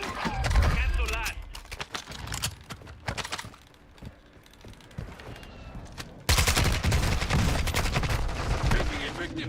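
Video game battle gunfire rattles in sharp bursts and scattered single shots, loud and close, with a quieter lull before a heavy barrage resumes; radio-style voices speak through it.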